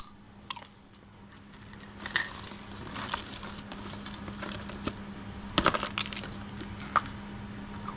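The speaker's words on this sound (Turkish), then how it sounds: "Şurada biraz daha bozuk para var." Loose coins handled while sorting through the contents of a box bought from a collector's storage unit, with scattered metallic clinks and small rattles, close and fairly quiet, irregular, with no talk.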